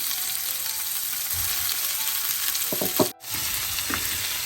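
Onion and tomato sauté in a pan for a chicken curry, giving a steady close sizzle with a few short stirring scrapes near the end and a brief dropout, no voices.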